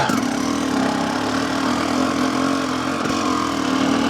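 An enduro motorcycle runs continuously at steady revs while being ridden on an unfamiliar trail, its engine drone loud and close with a brief dip around three seconds.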